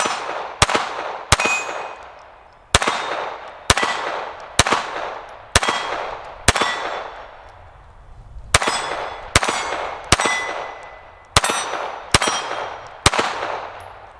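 A Retay RXP22 .22 LR rifle fires about fifteen shots at an irregular pace, each sharp crack followed by a ringing clang as the bullet strikes steel targets, with the ring decaying between shots and no talk.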